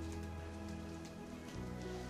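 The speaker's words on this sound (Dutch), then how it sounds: "Maar kijk, zo het regent dan." Steady rain falls continuously, a dense hiss of drops on surfaces with a low rumble underneath, loud and close with no voices.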